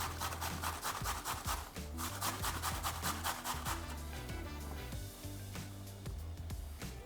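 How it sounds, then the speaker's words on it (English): Half a large courgette is coarsely grated by hand, producing close, rhythmic scraping strokes that are busy and fast at first and then sparser, over steady background music. "I've just got half a large courgette and I'm going to coarsely grate it"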